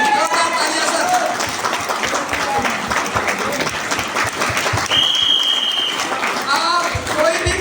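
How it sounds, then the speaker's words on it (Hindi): Loud, sustained applause from a large seminar audience at a business motivational event, dense clapping throughout with a voice briefly heard over it. "जोरदार तालियां चाहते हो एक बार हमारे कौन श्रीमान रामकिशन सर के लिए, जोरदार तालियां सर"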